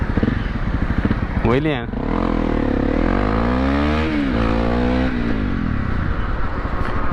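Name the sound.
Honda CRF 250 dirt bike engine revving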